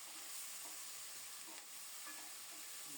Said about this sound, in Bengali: নেড়েচেড়ে কিছুক্ষণ কষিয়ে নেব।